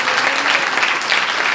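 A church congregation at a Sunday Resurrection Day gospel meeting clapping together, dense and loud sustained applause from a crowd filling the whole moment.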